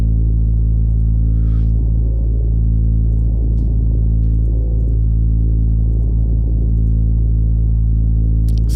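Granular synthesis built from railway recordings, run through long delay and reverb, forms a dark, continuous low drone with throbbing texture and occasional faint high flickers.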